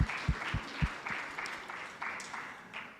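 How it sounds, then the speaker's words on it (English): An audience at an annual education and training seminar claps for guests, a short burst of dense applause that starts strong and gradually thins, heard fairly faintly from a distance. "A round of applause for our esteemed guest colleagues."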